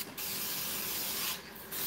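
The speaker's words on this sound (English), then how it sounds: "And just the nicotine spray on it." Aerosol nicotine spray hissing onto a Halloween store knife during mask finishing, two close, loud bursts of spray separated by a short pause.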